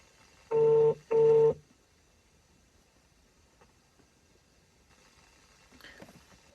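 Two long electronic tones pulse back to back, like a phone ringing through a speaker, followed by near silence and faint background noise.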